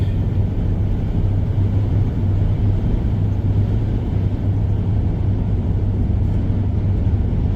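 A car cruises steadily on a US highway at night at about 60 mph and 1500 RPM, giving a constant loud low engine and road rumble with no breaks.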